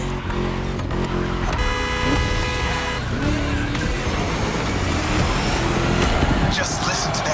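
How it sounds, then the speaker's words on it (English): A Jackson V8 muscle car revs and roars in The Crew Motorfest racing game, loud and continuous, its engine note rising and shifting, with tyre noise and horn-like tones mixed in and a voice talking over it. "Just listen to that V8"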